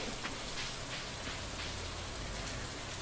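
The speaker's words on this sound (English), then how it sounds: "Even though it's raining, so I don't think we'll meet anybody out in the rain." Steady rain falls in Stardew Valley, an even, dense patter that is soft and continuous throughout, with no voices.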